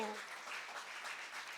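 A church congregation claps together, a faint, distant wash of steady applause lasting a brief moment.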